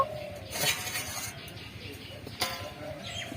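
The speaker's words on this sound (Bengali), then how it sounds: "বন্ধুরা আমি এখন ঢাকাটা খুলে নেব।" A lid comes off a pot of grapes steaming on low flame for homemade raisins, with a couple of short metallic clinks and rattles over a soft, steady background hiss.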